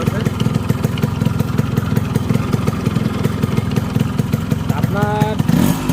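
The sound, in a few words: Yamaha RX 100 motorcycle engine running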